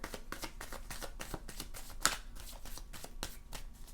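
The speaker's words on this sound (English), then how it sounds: "Let's get one more card." Tarot cards are shuffled and handled by hand at close range, giving a steady run of quick papery riffles and flicks, with one sharper snap near the middle and no talking.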